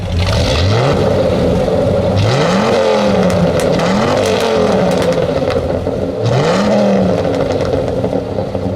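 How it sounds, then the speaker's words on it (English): A Dodge Ram SRT-10 performance pickup revs repeatedly, its loud, rumbling exhaust swelling up in several sharp blips and falling back to a burbling idle between them, close by. "another clear identifier that this was the SRT-10 truck and not a regular Ram was the exhaust note, which sounded very different from the standard pickup"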